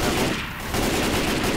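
Dense, continuous automatic gunfire in the Left 4 Dead 2 video game, fired at the Witch, a loud unbroken rattle of shots throughout with a short lull near the middle.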